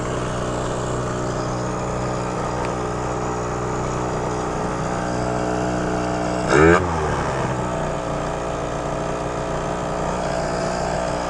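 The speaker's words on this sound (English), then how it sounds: "It's revving really high now." A Phantom F12 scooter with a Stage6 MK2 engine, poorly tuned, holds a steady high-revving drone with a brief louder surge partway through, close and continuous.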